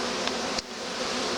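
Honey bees hum in a steady, close buzz while a package of bees is installed, with a brief sharper rustle partway through.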